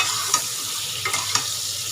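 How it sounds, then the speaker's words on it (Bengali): Shrimp frying in a pan for a luffa gourd and potato curry, a soft steady sizzle with a few sharp stirring clinks near the start and end, close and alone. "মাছটা ভাজা হয়ে গেল"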